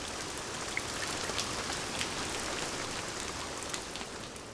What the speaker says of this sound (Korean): 처마 끝에서 떨어지는 빗소리를 들으면